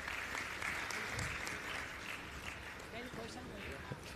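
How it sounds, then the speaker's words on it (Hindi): Quiet, steady applause from a seated audience at an honouring ceremony during a gathering with a Jain monk, continuing throughout with voices talking over it. "आप लोग जोरदार तालियां बजाते रहें जब तक ये सम्मान"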